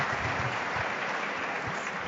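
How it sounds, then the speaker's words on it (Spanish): Audience applause at a congress on inclusion, a dense steady wash of clapping that holds level throughout without voices. "Yo creo que se merecen un aplauso mucho más fuerte."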